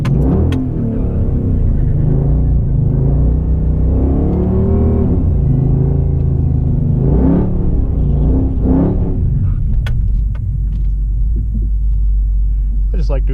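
A 2006 Chrysler 300 SRT8 doing a burnout, its engine rumbling loud and close with rising and falling revs, then settling into a heavy steady roar.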